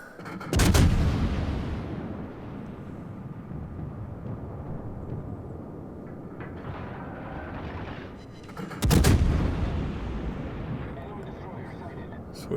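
Main guns of the French Tier-6 premium cruiser De Grasse fire in World of Warships, two heavy booming salvos roughly eight seconds apart, each with a deep rolling tail over constant engine and sea rumble.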